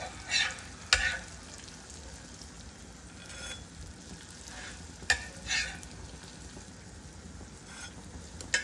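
Bread toasts in a hot pan for a breakfast sandwich, with a soft, continuous sizzle broken by a few sharp scraping and tapping strokes of a utensil.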